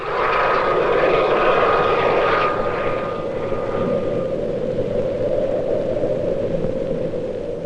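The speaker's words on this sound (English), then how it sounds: "This specially instrumented NAT aircraft is gathering information on low-level turbulence" Specially instrumented NAT research aircraft flying at low level to gather turbulence data, a loud steady propeller-engine drone with a faint whining tone early on, continuous and fairly close, no talk.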